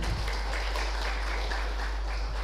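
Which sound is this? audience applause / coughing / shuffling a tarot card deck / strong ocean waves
audience applause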